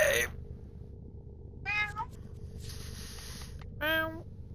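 A cat meows twice, each call short and clear against a quiet room, with a faint low hum and a brief rustle in between.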